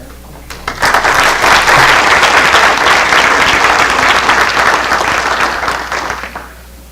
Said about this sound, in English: A round of applause again for that committee and all the students for doing that.